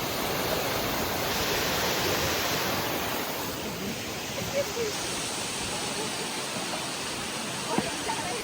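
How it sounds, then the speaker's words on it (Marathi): A small roadside waterfall near Amboli, Maharashtra, rushes steadily, a dense continuous wash of falling water heard up close, with no pauses. "रस्त्याचे चलता चलता धाकटो धबधबो बी हा."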